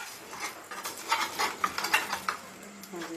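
Pancakes and croquettes fry in a pan that they keep sticking to, with soft sizzling under repeated scraping and stirring of a utensil against the pan, close and moderately loud.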